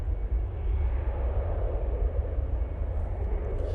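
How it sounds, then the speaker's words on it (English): A Brussels Airlines Airbus A319 departs with a steady, broad engine roar from a fair distance, heavy low rumble holding constant and no speech. "Brussels Airlines, it's a 319 going back off to Brussels."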